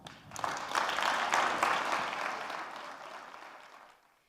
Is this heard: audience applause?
yes